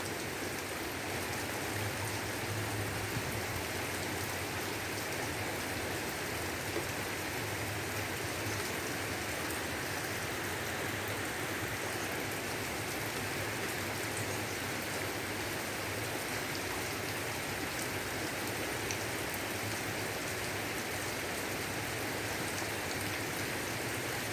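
Steady, dense rush of heavy rain pouring down, a continuous hiss with no pauses and no voices.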